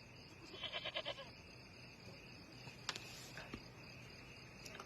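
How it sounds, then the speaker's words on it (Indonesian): A goat brought as a dowry bleats a few short, faint calls early on, over a quiet outdoor hiss with insects, followed by scattered light knocks and no talk. "Ini saya bawakan kambing sebagai mas kawinnya, Pak Pin."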